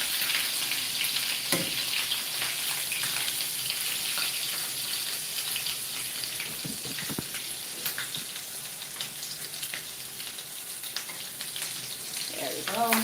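Stuffed plantains sizzle and caramelize in a hot pan, a loud, steady crackling hiss that holds for the whole stretch, with a few faint knocks and a brief voice near the end.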